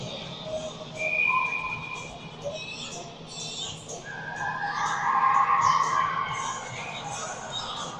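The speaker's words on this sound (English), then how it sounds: "Referees blowing the whistle, getting the players back to the benches." Referees blow whistles at a youth under-16 hockey game, giving short high whistle tones over the steady noise of an arena crowd while voices murmur throughout.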